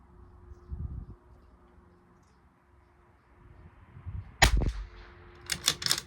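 Bergara B14r Club Master rifle fired at a small target during an ammunition test, with one sharp shot near the end of a quiet stretch followed shortly by two more crisp reports, the last ones close together.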